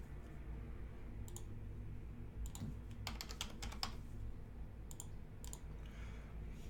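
Quick bursts of keystrokes on a computer keyboard while a zip code is entered into an online form, light clustered clicks over a steady low room hum.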